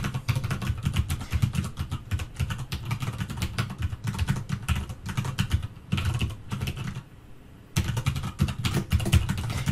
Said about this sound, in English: we'll, again, type out this rather lengthy repository name.